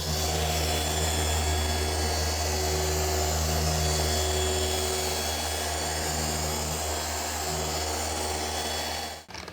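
Power polisher buffing the paint of a Buick Grand National, a loud continuous whirring drone with steady tonal whine that holds nearly unchanged, then cuts off at the end.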